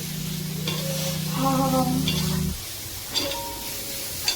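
Small chopped boneless chicken pieces sauté in a hot pan, with a steady close sizzle, scraping stirs, a low tonal hum in the first half and a couple of sharp utensil taps.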